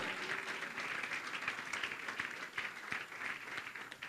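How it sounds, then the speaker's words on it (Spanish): Congregation applause in a church service, a continuous patter of many hands clapping at a distance, fairly faint. "¿Cuántos aplauden al Rey?"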